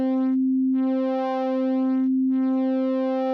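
A steady synthesized tone from the SkyDust synthesizer with a buzzy, harmonic-rich timbre that drops to a pure sine twice, switching back and forth between plain and richer waveforms as a waveform modifier is applied.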